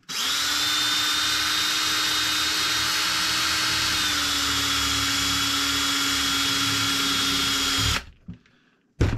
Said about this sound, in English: I drill a hole in the top or the side, and you can hear it